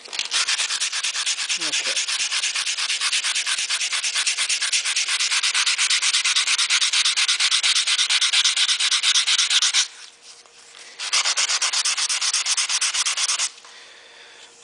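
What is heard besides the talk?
sanding stainless steel trim by hand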